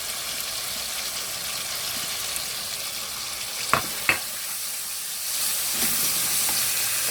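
Chilies drop into a hot pan and fry, a soft continuous sizzle with two sharp clacks of utensil against pan midway, then the hiss swells brighter and louder near the end.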